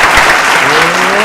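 Brief burst of crowd applause for a man at an outdoor village celebration, loud and close, with a voice briefly sounding over the clapping.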